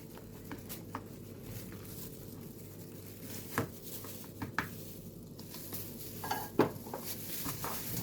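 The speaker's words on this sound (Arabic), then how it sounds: "هقلب. انا مش هنزل بكميه الدقيق مره واحده." Cookie dough being stirred in a bowl while flour goes in bit by bit, a soft continuous scraping patter with occasional sharper knocks of the utensil against the bowl, quiet and close.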